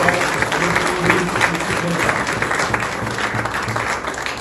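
A crowd claps loudly and continuously in dense, sustained applause, close and steady, with voices mixed in underneath.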